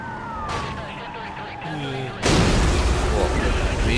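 A police car siren wails in the racing game Need for Speed Most Wanted, sweeping tones that are cut off by a sudden loud burst of crash noise partway through.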